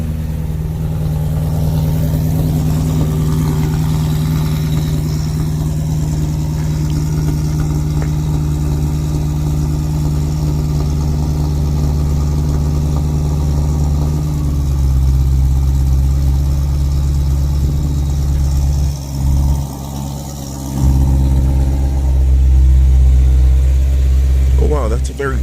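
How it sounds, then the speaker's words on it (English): A BMW E92 M3 engine with an ACM muffler idles after a cold start with a steady low rumble for a long stretch, then the revs dip and shift slightly near the end. "That's a very tame cold start."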